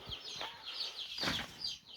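Several chickens cluck and chirp nearby in short, overlapping bursts inside a pen by a greenhouse, soft and continuous with a faint background hiss.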